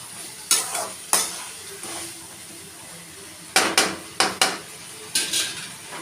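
Brinjal and turkey berry sautéing in a pan for kuzhambu, with a soft steady sizzle broken by several sharp scrapes and knocks of a spoon stirring against the pan, close and fairly loud.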